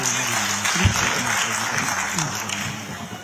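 Audience applause for Chief Minister Pushkar Singh Dhami at a gathering of migrant Uttarakhandi residents in Navi Mumbai, Maharashtra: a steady clapping wash runs beneath a voice speaking over a microphone.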